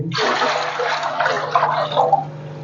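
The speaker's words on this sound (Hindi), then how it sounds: "ये 2 जग जो है दूध के हमने ऐड कर दिए।" About four kilograms of milk is poured from two jugs into a cooking pot, making a loud, close, continuous splashing gush that shifts and gurgles as the stream settles.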